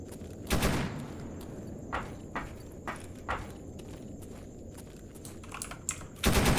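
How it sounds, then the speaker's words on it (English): Gunfire in the video game Escape From Pripyat: a few scattered distant shots pop over a steady rustling ambient bed, with a louder burst near the start and another at the end. "Not sure what he's shooting at."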